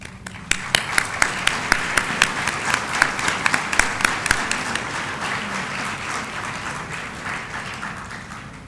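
Audience applause for an honorary doctorate in medicine at a university ceremony, a dense burst of many hands clapping with sharp individual claps early on, then settling into a sustained, steady roar of clapping.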